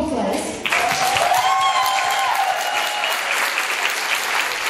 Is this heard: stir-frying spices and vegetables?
no